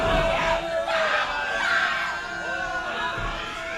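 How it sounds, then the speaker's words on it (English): A wrestling crowd at an anything-goes match on an indoor show roars and chants together, a dense wash of many voices that stays loud throughout with rhythmic swells. "listen to the crowd getting to the head of Warsaw with the War Sucks chant"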